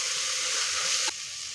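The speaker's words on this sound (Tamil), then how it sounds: "இப்போ நான் தக்காளி போடுறேன்." Tomatoes going into a hot pan while chicken biryani is being cooked bring a loud, bright sizzle and hiss, which suddenly drops to a quieter fizz near the end.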